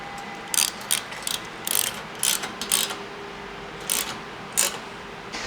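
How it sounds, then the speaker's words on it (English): A socket ratchet tightens bolts on a Toyota 4Runner roof rack, sharp close clicking in short irregular bursts of a few turns each, separated by brief pauses. "you're going to need an 11 wrench and an 11 socket and ratchet"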